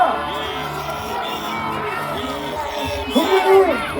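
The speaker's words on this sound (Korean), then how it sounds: "마지막으로 가장 큰 함성과 박수를" A large crowd at an outdoor presidential campaign kickoff rally cheers and shouts continuously, with whoops rising into a louder burst near the end; no clear applause stands out.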